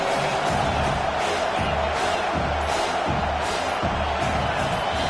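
Stadium crowd in College Football 25 roaring loudly and continuously on a big third down, with surging waves of cheering and shouts, and a commentator's voice running underneath.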